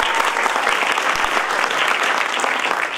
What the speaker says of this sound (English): We should give a round of applause to Donnie Crooks.